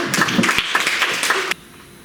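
Applause from an audience for a student speaker at a secondary-school public speaking contest, heard as a brief, dense burst of group clapping that cuts off abruptly into quiet.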